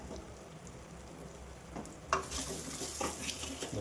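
Coriander powder, turmeric and chili powder fry in a pan with a gentle, rain-like sizzle that swells suddenly into louder crackling as stirring begins partway through.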